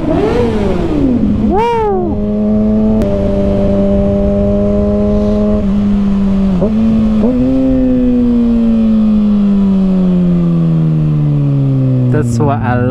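A 2021 Kawasaki Ninja ZX6R KRT Edition sport motorcycle revs hard up close at night, a loud rising wail that settles into a sustained high-pitched engine note and slowly drops, with a brief excited shout.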